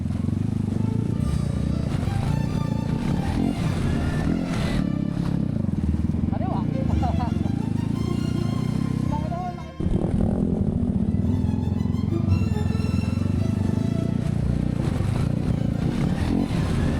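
Motorcycle engines, including a Yamaha XSR155, rumble continuously up close, with splashing and clattering as the bikes push through a river crossing at Mt. Pinatubo, and voices shouting intermittently over the noise.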